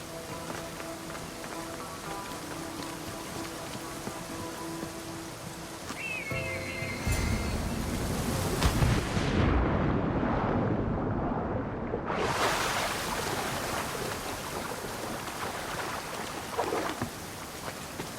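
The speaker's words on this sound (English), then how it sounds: "This is the waterfall." A waterfall in Assassin's Creed Odyssey roars in a broad, loud rush that builds and swells midway, over quieter game ambience at the start.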